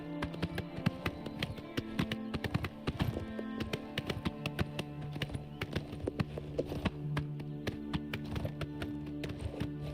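Horse hooves clip-clop in a fast, steady rhythm of crisp taps in the Oblivion Remastered video game, continuous and close throughout over a low game background, with no talk over it.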